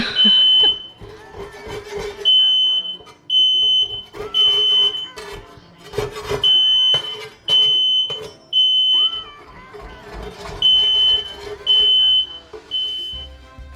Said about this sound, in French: à chaque fois, mon alarme incendie, elle sonne